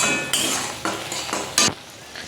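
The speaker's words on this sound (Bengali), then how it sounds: "তো মোটামুটি মশলাটা দেখো হালকা ভাজা ভাজা হয়েছে, পুরোটা এখনও হয়নি" Spice masala fries in a pan while a utensil scrapes and stirs it in several sharp, rhythmic strokes, each stroke a brief loud scrape over a soft background sizzle.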